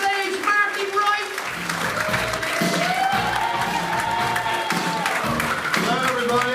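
Audience members at a live comedy club in New Zealand applaud as a comedian comes on stage, a sustained roomful of clapping with a voice or tonal sound riding over it.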